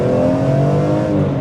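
A newer BMW car accelerates hard in sport mode, its engine giving a loud, steady, close-up roar throughout a short burst.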